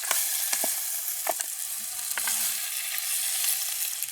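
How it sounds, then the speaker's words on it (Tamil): Green pineapple being stirred with onion and chili in a pan, giving a steady soft sizzle with a few scraping stirs near the start and middle, close and continuous. "இப்படியே நல்லா கிண்டுவோம் வெங்காய மிளகாயெல்லாம் சேரட்டும்"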